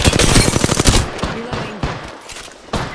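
Video game gunfire, a fast burst of automatic shots for about a second, then scattered single shots and impacts at close range, fairly loud.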